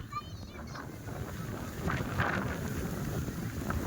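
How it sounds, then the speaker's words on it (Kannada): Strong wind gusts buffet the microphone on an open boat during an outing on the water, a steady broad roar that swells louder midway, with faint voices underneath. "ಸಿಕ್ಕಾಪಟ್ಟೆ ಗಾಳಿ"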